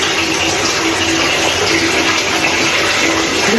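Steady, loud running water pours continuously as shampoo is rinsed from thick, curly, porous hair, with no voices.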